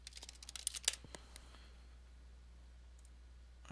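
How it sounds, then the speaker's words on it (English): Computer keyboard typing: a short, quiet burst of irregular clicks and taps at the start, then a few scattered keystrokes before falling nearly silent. "Can't see what I'm typing."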